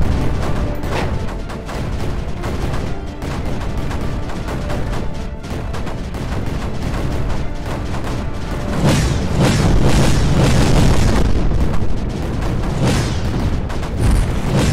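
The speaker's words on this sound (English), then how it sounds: "Four mortars." Four mortars fire in the video game Creeper World 4. Dull booms and thuds pile up over a dense, rumbling background that swells near the end, with no one talking.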